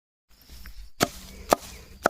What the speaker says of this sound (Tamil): நம்ம சின்ன சின்ன துண்டுகளாக நறுக்கி அந்த பாரலுக்குள்ளே போடலாம்